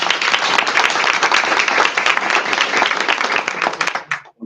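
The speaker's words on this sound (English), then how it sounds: "Again, let's give everybody a round of applause." Audience at a community talk on mental health gives a round of applause, dense steady clapping throughout that cuts off abruptly near the end.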